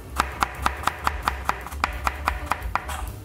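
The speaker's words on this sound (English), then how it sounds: "all we want to do is chop these and get them as fine as you can" A knife chopping carrots finely on a cutting board, twelve or so crisp, evenly spaced taps at a quick steady rhythm, close and clear with no talking.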